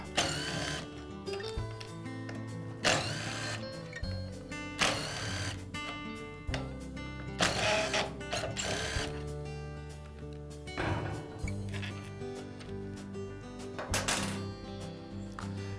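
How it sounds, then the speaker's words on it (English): Screws holding the steel strap on a string trimmer's debris shield are backed out, heard as close, quiet mechanical clicks and ratcheting turns that recur in short bursts with pauses between them. "I'll remove the screws that secure the strap."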